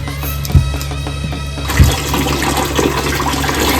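Water gushes and splashes over crabs being rinsed clean, a continuous close rush with a couple of thumps early on, then a fuller, noisier flow in the second half.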